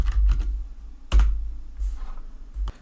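Keystrokes on a computer keyboard while renaming a Power BI report page, a few short bursts of clicks with brief pauses between them, close and fairly loud with no talking.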